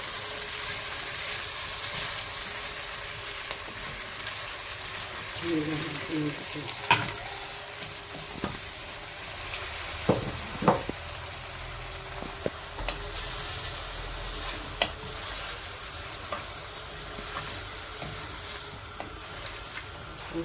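Suqaar meat fries in a pan alongside onions with a steady, quiet sizzle that lasts the whole stretch, broken by occasional scrapes and clicks from stirring.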